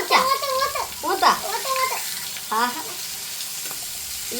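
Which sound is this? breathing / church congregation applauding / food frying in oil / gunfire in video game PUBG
food frying in oil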